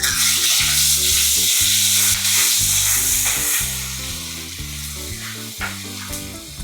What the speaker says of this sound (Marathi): दोन्ही हिरव्या मिरच्या आणि अद्रक लसूण छान असं परतून घ्यायचं.